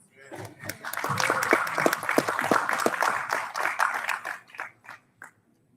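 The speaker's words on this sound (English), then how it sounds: "Give that a round of applause" A round of applause from an audience at a talk: scattered, uneven claps build quickly, hold at moderate loudness, then thin out to a few last claps and fade.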